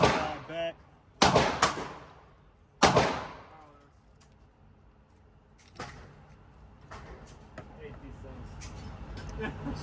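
Pistol shots fired from a Shield Arms Z8 magazine during a failure-to-feed test, two loud sharp reports early with echoing decay, followed by quieter metallic handling clicks and rustling at close range.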